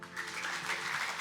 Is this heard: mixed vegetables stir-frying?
no